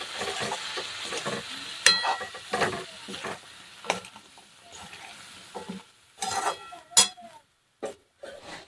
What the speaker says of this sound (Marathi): खूप छान लागते दमशाची भाजी छान असं मिक्स करून घ्यायचं